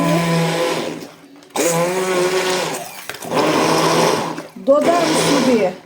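A kitchen blender purees two litres of strawberries mixed with sugar. It runs loudly in several bursts of a few seconds each, the motor pitch shifting as the fruit breaks down, with short pauses between bursts.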